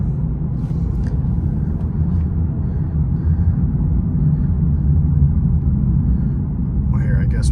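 A 2023 Lexus IS500 engine pulls hard under acceleration, a deep continuous rumble that holds steady and full-bodied for several seconds, heard from inside the cabin.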